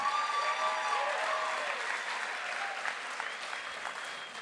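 Audience applause for poet Alexis at a poetry slam, loud and sustained clapping with crowd noise that gradually thins over several seconds, some faint voices mixed in.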